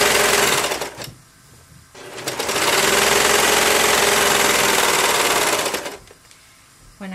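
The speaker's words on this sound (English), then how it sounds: "And I'm going to keep going right across the back, still sewing the edge." A sewing machine stitches along the edge of a scrub cap in loud, steady runs, stopping briefly near the start and again near the end.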